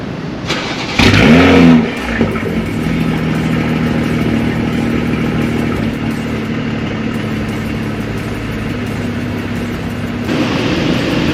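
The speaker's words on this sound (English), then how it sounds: "it's a stock exhaust. It's not gonna sound crazy. It's not gonna be super loud." A BMW M340i G20 on its stock exhaust starts up with a brief burst, then settles into a steady, moderately loud idle that holds evenly throughout.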